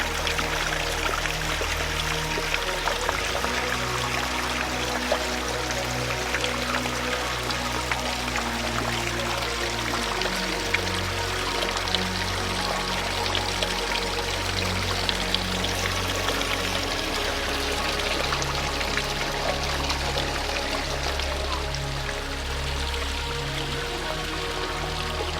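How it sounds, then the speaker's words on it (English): Small waterfall on Bollihope Burn with a steady, continuous pour and splash of running water, close by and filling the whole scene without pause, no voices over it. "I bet this is quite an impressive waterfall when there's a bit more rain"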